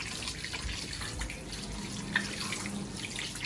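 Hands washed under a running kitchen tap while making homemade pizza, a steady close splash of water with soft irregular spatter, alone and fairly quiet.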